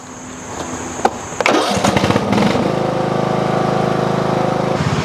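A tractor engine revs up after a few knocks and clunks, then settles into a loud steady drone close by while mowing grass with a PTO-driven blade.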